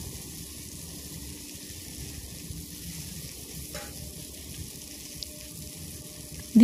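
Finely chopped onion hits hot oil after ginger and garlic, giving a continuous, fairly even hiss close by with a faint clink near the end and no talking.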